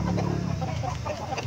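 Barred Plymouth Rock heritage rooster in a backyard coop, giving steady clucking and rough calls at close range over continuous farmyard noise, with no talk.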